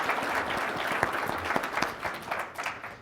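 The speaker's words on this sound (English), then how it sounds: "quick round of applause." A brief, fairly quiet round of applause from a seated audience at a business talk, dense clapping fading toward the end.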